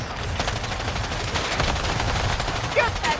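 Gunfire in the video game Predator: Hunting Grounds, a dense, continuous rattle of rapid shots running through the whole stretch at steady loudness, with a brief louder burst near the end.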